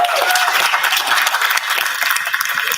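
An audience at an evening question-time event claps in sustained, dense applause, a bright continuous patter of many hands that stays fairly steady throughout.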